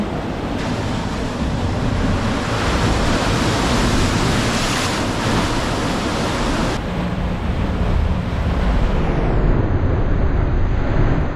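Sea water rushes and surges through a rock pool in a loud, continuous roar of churning surf, with no voices.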